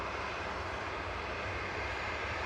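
EasyJet airliner arriving from Geneva at Manchester Airport, touching down: a steady, broadband engine roar held at an even level throughout, with no talk.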